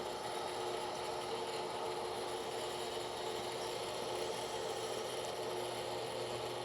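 Arcobaleno ASC320 pasta machine cutter running as it cuts 6.5 millimeter fettuccine, a steady even mechanical whir and hiss that holds constant throughout with no voices.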